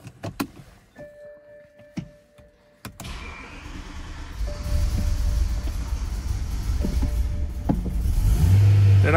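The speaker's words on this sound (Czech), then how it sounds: "Motor normálně běží, auto jezdí dopředu dozadu" A crashed, high-mileage BMW M3 E93 imported from the USA: a few clicks and mechanical whirs, then the engine fires up and settles into a loud, steady low rumble that grows toward the end.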